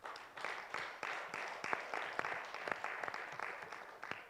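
An audience at a parliamentary summit claps for a woman bishop, steady dense applause from many hands filling the room, fairly distant and even, with no voices over it.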